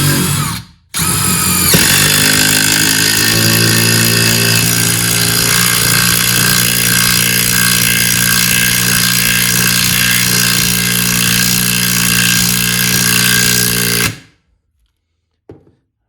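A DeWalt DCF850 compact impact driver sinking a 3.5-inch lag bolt: a loud, close, sustained rapid hammering whir lasting about twelve seconds after a short start, then stopping abruptly into silence.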